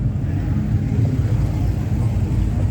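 A Ford Fairlane rolls past during an Australia Day car parade of classic muscle cars in Hastings, giving a steady low engine rumble close by that holds evenly throughout with no distinct peaks.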